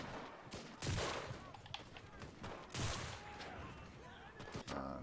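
Bursts of gunfire in the video game Enlisted: two loud volleys, each followed by scattered sharper shots, heard fairly close with faint background noise.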